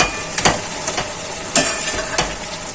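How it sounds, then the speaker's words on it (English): Steady sizzling and bubbling of chicken keema with fenugreek cooking in a pan over low flame, with a few sharp clinks and scrapes punctuating the continuous hiss. "You can see it's nicely boiling."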